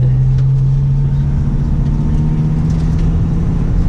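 A Dodge Viper at a track day, heard from inside as a loud, low, constant engine rumble with a steady droning tone that dips slightly in pitch, continuous throughout.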